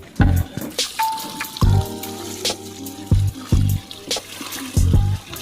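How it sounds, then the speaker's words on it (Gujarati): Water poured into a pot of rice and spices for a village Kutchi khari bhat, heard as several short splashing pours separated by brief pauses, close and moderately loud. "બેસી ન જાય એના માટે થોડું પાણી નાખી દેવાનું અંદર."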